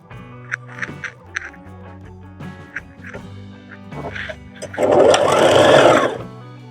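A sewing machine hems the bottom of a box pleated dress, starting with short stitching bursts and stops, then running in a steady, louder whir near the end.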